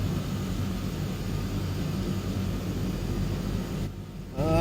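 Twin Otter twin engines at full throttle in a Microsoft Flight Simulator 2020 game: a steady, moderately quiet propeller-aircraft drone that holds level, dips briefly near the end, then swells louder.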